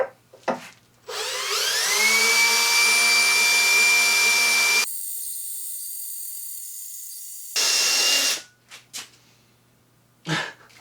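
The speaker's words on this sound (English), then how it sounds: "So I'll use the drill." A power drill fitted with a cheap drill bit whines up to speed and runs at high pitch for several seconds, then shifts to a different steady tone before stopping, with short bursts of handling noise around it.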